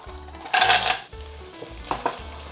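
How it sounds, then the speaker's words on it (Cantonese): Garlic and clams sautéing in a pan with sake, a sharp burst of sizzle followed by quieter frying and a few metallic clanks of pan and utensil, close up. "我哋爆香啲蒜蓉啦，然之後咧就將啲蜆咧就加落去"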